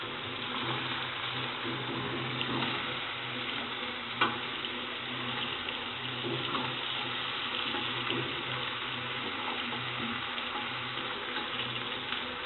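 Cabbage going into a frying pan already cooking tomato and potato for a fish-head cabbage dish, a continuous close sizzle and bubbling with a few small clatters and one sharper knock, no talking.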